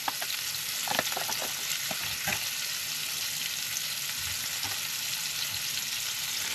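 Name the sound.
steak frying in pan with garlic and rosemary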